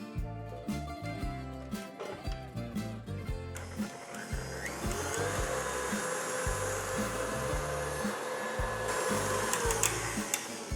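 An electric mixer creams butter and sugar for Greek kourambiethes almond cookies, first with irregular thumping and scraping, then a steady, louder whirring motor hum that runs to the end.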